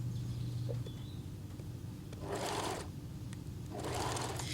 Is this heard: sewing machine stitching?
yes